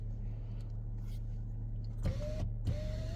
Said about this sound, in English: We have the rear sliding glass, which I love.